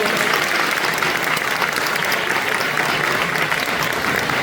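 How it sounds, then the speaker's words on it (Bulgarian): Loud, sustained applause from an audience at a kindergarten anniversary celebration, dense and steady without a break from start to finish. "Силни аплодисменти"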